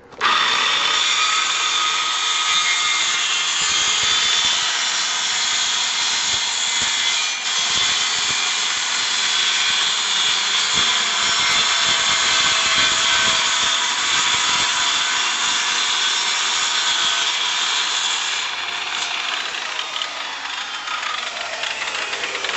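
A power saw cuts a 45-degree angle along the back transom of a jon boat, a loud, sustained high whine that runs steadily for about twenty seconds before easing off near the end, with no talking over it.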